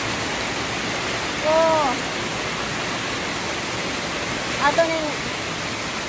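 Water flows steadily outdoors in a continuous, rushing wash that fills the scene, with a couple of brief voices speaking over it.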